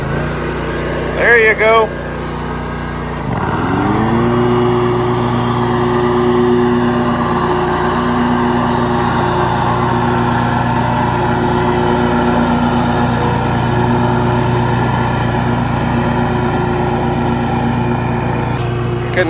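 A lawn mower engine runs steadily while mowing in spring, a loud close drone with a rising rev early on, then a sustained even hum as a person speaks briefly over it.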